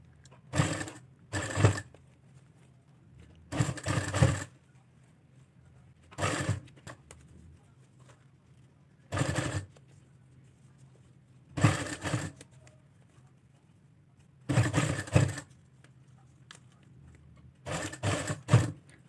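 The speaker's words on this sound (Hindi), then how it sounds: "इस तरह से हम पूरी सिलाई लगाएंगे।" A sewing machine stitches a trouser hem in short repeated bursts, about eight runs of a second or so separated by pauses, close and clear with no talking.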